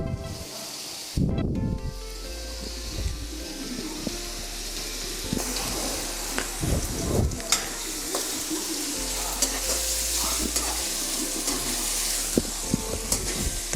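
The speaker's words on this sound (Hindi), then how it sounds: "तो प्याज हमारा ब्राउन हो रहा है।" Onions browning in a pot for chicken biryani hiss and sizzle steadily throughout, with scraping and clattering stirring knocks rising above the constant frying noise.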